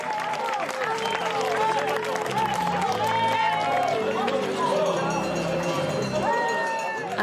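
A nighttime crowd cheers and claps for ultra-trail runners arriving during the UTMB Mont-Blanc race, steady applause mixed with shouts, whoops and excited voices, close and lively throughout.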